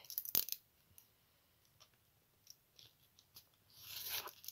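Scissors cutting a paper bread bag while making a floral junk journal. A few soft, close snips and clicks are followed by a longer crinkling rustle of paper toward the end. The sounds are quiet, with no talking.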